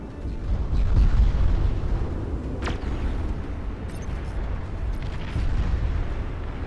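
Torpedoes firing and exploding in the real-time strategy game Beyond All Reason: a heavy, continuous rumbling roar of blasts with a sharp whooshing streak partway through, loud and sustained throughout.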